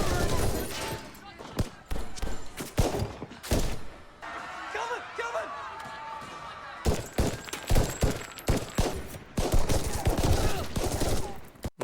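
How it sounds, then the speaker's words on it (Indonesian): Gunfire in a police shootout on a street outside a bank, loud rapid bursts of shots and sharp cracks in clusters, with voices talking between and beneath the volleys. "Polisi tidak segan-segan melepaskan tembakan."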